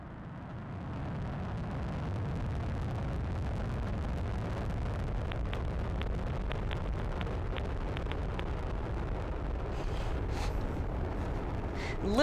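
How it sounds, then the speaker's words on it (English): Atlas V rocket carrying twin radiation belt probes roars off the pad, a loud, steady low rumble that builds and holds, with faint crackle on top and no talk. "Lift off the Atlas V rocket and twin spacecraft on a mission to unlock the mysteries of Earth's Van Allen belts."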